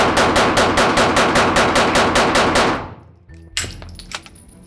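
A Laugo Arms Alien pistol is fired in a rapid, evenly spaced string of about a dozen loud close shots. The shots stop abruptly and are followed by a few scattered metallic clinks.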